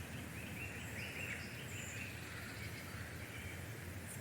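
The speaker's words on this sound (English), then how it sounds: "There are quite a few birds around, though most of them in the distance" Wild birds calling in winter woods, with crows among them, faint and mostly distant chirps and calls over a steady quiet outdoor hiss.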